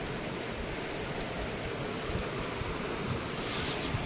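A strong river current rushes below at Zero Point in Sikkim, a dense, steady roar of water mixed with wind buffeting the microphone, loud and continuous throughout.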